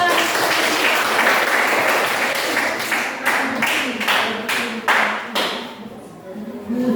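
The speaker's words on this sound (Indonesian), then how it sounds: "Tepuk tangan" A classroom group applauds after a student presentation, dense clapping that thins into a few separate claps before fading.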